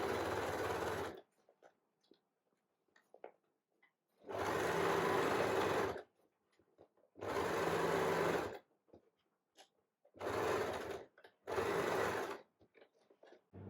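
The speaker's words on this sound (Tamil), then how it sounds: "இந்த பக்கம் தச்ச மாதிரியே தான் நம்ம அடுத்த பக்கமே தச்சுக்கலாம்." A sewing machine stitches the side of a fabric storage basket in four loud, even bursts of a few seconds each, separated by quiet pauses with small handling clicks.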